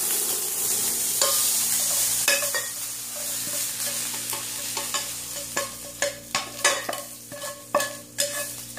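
Scallops browning in oil in a pan give a steady broadband sizzle, with a run of sharp utensil scrapes and taps growing more frequent toward the end, close and fairly loud.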